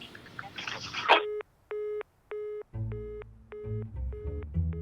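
A telephone tone after the phone is hung up: steady repeated beeps in an even on-off rhythm following a brief clatter, with low background noise underneath.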